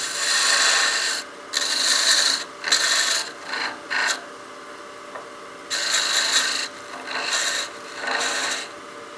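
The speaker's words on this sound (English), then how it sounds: "I'm just going to peel cut this just a little bit smaller with my skew" A skew chisel takes peel cuts on a spinning bat house ornament on a wood lathe, giving several bursts of rough, raspy scraping separated by short pauses, close and loud with no voices.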